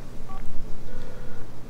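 A telephone dialed in The Sims 4, a short run of bright keypad tones sounding loud and close, with a steady hum underneath.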